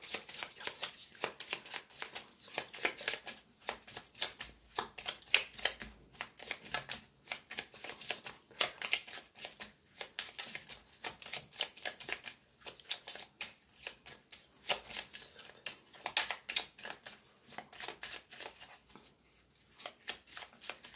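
Tarot cards are shuffled by hand before a reading, a long run of dense, rapid riffling and flicking bursts close up, steady and uninterrupted, with no talk.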